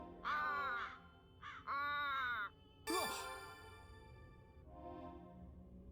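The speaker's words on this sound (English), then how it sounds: "It's just a crow." A crow in the video game Root Letter, giving three loud, harsh caws in quick succession, followed by a fainter, lower trailing call against quiet background tone.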